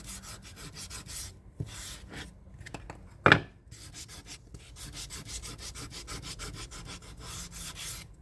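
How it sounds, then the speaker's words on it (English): Fine sandpaper rubbed by hand over a wooden craft piece, a close, steady rhythmic scratching of repeated strokes with one sharp knock partway through, no voices. "When you sand it, it does smooth it out. And I'm not using a real rough"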